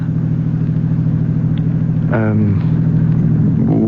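A car driving along a road, heard from inside as a steady low engine rumble and road hum that runs the whole time, with a voice speaking briefly over it.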